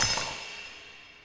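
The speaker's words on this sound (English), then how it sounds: "So glass is broken." Glass breaking in a video game, one sharp shatter with bright tinkling that rings out and fades away over about a second.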